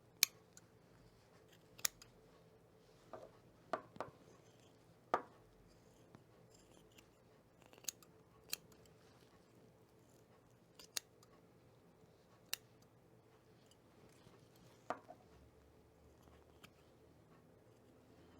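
Scissors trimming fabric for a hedgehog plush toy, a sparse series of quiet, sharp snips spread irregularly over a faint, hushed room background.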